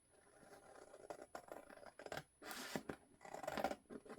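Scissors cut out book pages in several short, faint snipping strokes with soft paper rustle between them, close up and quiet, with no talking.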